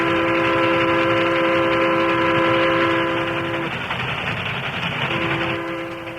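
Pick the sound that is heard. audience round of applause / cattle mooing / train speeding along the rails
train speeding along the rails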